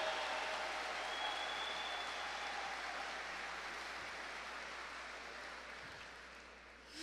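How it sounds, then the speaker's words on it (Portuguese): A church congregation applauds together, a steady diffuse clapping wash heard at some distance that holds evenly throughout and fades slightly toward the end. "Pode aplaudir, pode aplaudir, pode aplaudir"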